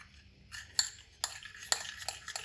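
A spoon stirring a turmeric face remedy in a bowl, with several sharp clinks and scrapes against the bowl in quick, irregular succession, close and fairly quiet.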